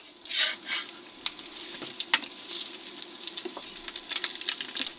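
Soft, steady sizzling of an egg frying in hot oil in a pan, with occasional louder crackles and pops, no voices.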